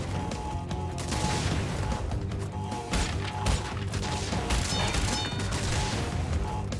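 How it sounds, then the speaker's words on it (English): A TNT crate explosion in Crash Bandicoot on PS4 comes through as dense game audio with sharp crashing bursts and clattering hits over a busy musical bed, loud and continuous. "the explosion killed me"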